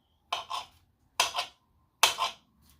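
A knife cuts vegetables for a vegan stuffed portobello mushroom dinner in three crisp, close strokes, each a quick double scrape-and-tap against the board, with short pauses between them.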